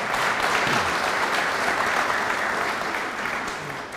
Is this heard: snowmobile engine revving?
no